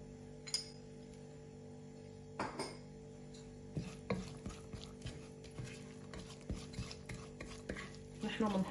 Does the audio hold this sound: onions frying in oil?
yes